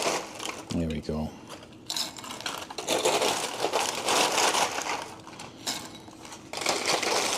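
Crisp crackling and crunching of brittle bourbon candied pecans snapping and breaking off foil, with rustling foil, in irregular bursts close by.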